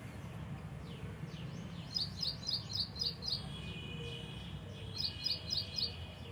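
A small bird chirps outdoors in quick bursts of bright, high notes, two clear runs of five or six rapid chirps against a low background hum, fairly near and moderately loud, with no talk.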